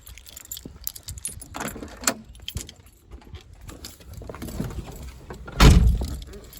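Car keys jangle in a hand beside a Ford Capri with a Weber 32/36 carburettor, a run of close, bright metallic clinks and rattles, then a louder knock and rustle near the end, with no talking.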